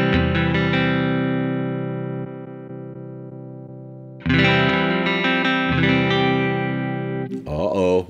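Electric guitar through a Two Notes Torpedo 6L6 amp simulation, a ringing distorted chord decaying slowly, then a fresh loud strum with brief picking, close and full.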